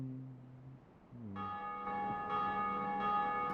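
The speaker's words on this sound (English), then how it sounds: "bells ringing because other players are ringing the bell up above" Church bells ring in Dark Souls, several deep, sustained metallic tolls layering and resonating one after another, clear and alone with no talk.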